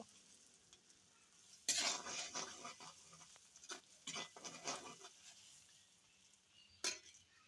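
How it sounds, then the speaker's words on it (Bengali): Garlic paste in oil is stirred for a sweet-sour chalta (elephant apple) pickle: several scraping, sizzling bursts of a spoon through the pan, then a pause and one last short scrape. "এগুলার এবার ভালো করে নেড়ে চেড়ে মিশিয়ে নেব"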